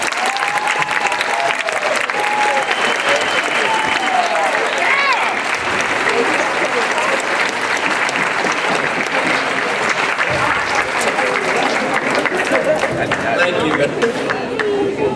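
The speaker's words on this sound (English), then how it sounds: "please give Representative McCall a big hand of applause" A crowd applauds loudly and steadily for the whole stretch at a basketball game presentation, with some chatter mixed into the clapping.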